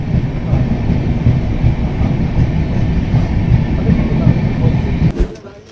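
A passenger train runs steadily on a railway track on a long Kolkata to Ajmer journey through village countryside, its loud continuous rumble and rattle filling the scene before fading abruptly near the end.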